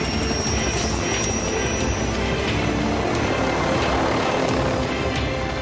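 A loud, continuous roar of two helicopters with a steady rotor thrum fills the clip, close and unbroken throughout.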